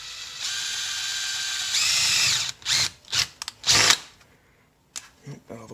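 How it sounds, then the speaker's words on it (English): A power drill bores through a part of a 1985 Toyota Tercel 4WD engine during a rebuild: a steady whine, then a louder, strained stretch, then several short trigger bursts, close and loud. "Drill that right about the center there."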